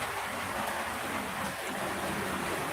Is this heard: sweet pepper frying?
no